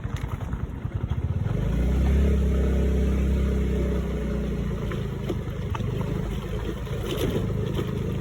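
A car approaching and passing on a wide, unpaved dirt road, its engine rumble growing loud and close around two seconds, then holding as a steady drone under gravelly road noise.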